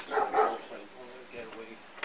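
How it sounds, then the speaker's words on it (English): A dog barks twice in quick succession nearby, followed by softer canine noises, during a police officer's visit to a home's open back door, with people talking around it. "Oh, there's a dog, too."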